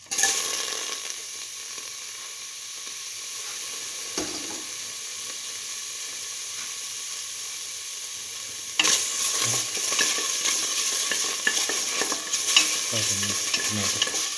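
Tomato pieces fry in a pan for a split chickpea tomato toast sandwich, a loud continuous sizzle that intensifies partway through, with scraping stirs and utensil knocks up close.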